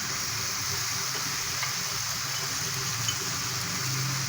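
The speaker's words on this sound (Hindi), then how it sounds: "मैं टमाटर फ्राई करूँगी और साथ ही प्याज फ्राई करूँगी" Onion fries in oil in a kadhai with tomato and chilli for a besan bhindi dish, a dense, close, steady sizzle with faint stirring scrapes underneath and no voices.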